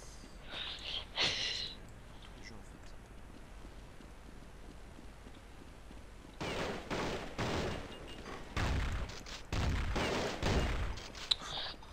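Pistol fire in Counter Strike Nexon: Zombies, several sharp gunshots in quick bursts from about the midpoint onward, loud against a quiet game background.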